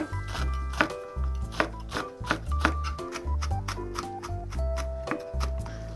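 Rapid, even knife strokes tap against a cutting board, thinly slicing chili peppers, a steady run of crisp chops close up, with no talking.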